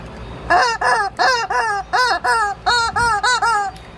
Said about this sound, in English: Hey, Rooster, you want to be an alarm